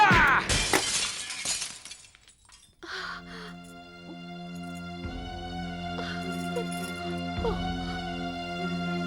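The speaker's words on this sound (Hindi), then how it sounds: "माँ, बाबा की तस्वीर कैसे गिरी?" A framed picture of Sai Baba falls and smashes, a sharp burst of shattering glass up front, followed by sustained tonal music with soft hits.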